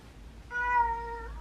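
A house cat lets out a single clear, drawn-out meow close by, rising then slowly falling in pitch, over a low background rumble.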